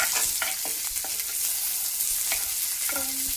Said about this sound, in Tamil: அடுத்து பூண்டு, இஞ்சி, அப்புறம் வெங்காயம் போட்டுக்கலாம்